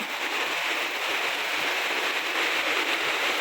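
Heavy rain pours down in a steady, dense hiss with no letup, close and loud, and no voices are heard.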